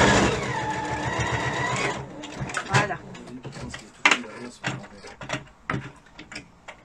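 A sewing machine stitches a small beginner's fabric pouch in a steady whirring run for about two seconds, then gives way to clicks, knocks and fabric handling, with someone talking throughout.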